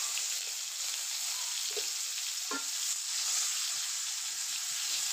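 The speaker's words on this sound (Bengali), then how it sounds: "পেঁয়াজ কুচিগুলো দিয়ে দিচ্ছি।" Chopped onions fry in hot oil in a pan, giving a steady, even sizzling hiss with a few faint stirring knocks, and no talk.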